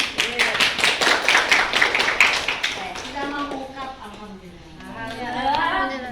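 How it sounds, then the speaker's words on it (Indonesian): A school class group claps for a classmate presenting an ecobricks project: quick, rhythmic, fairly close hand claps for a few seconds, then the clapping stops and talking voices take over. "Tepuk tangan guys"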